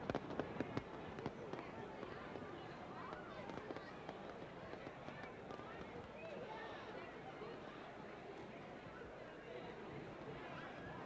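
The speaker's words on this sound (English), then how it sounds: "the lights of the plaza were dimmed for a special fireworks display" At a 1977 New York State night festival in a plaza, a fireworks display crackles and pops over the dense babble of a large celebrating crowd. A few sharper bursts come early, and a continuous low rumble runs underneath.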